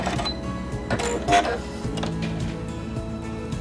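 Quantum Stylist 9960 sewing machine running in steady mechanical stitching, a close, even rattle with a brief louder burst near the middle, no talk over it.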